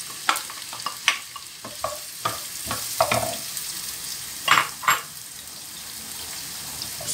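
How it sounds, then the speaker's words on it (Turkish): Chopped onion fries in oil in a pan, a soft steady sizzle broken by scraping and stirring clatters from a utensil, close and moderately quiet. "Ve soğanımı koyuyorum."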